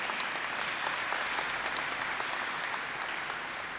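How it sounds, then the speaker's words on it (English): An audience at a high school aquatic center dedication and ribbon cutting claps steadily, with dense, even applause and a few sharper individual claps standing out, holding for several seconds without speech. "Please give them a round of applause."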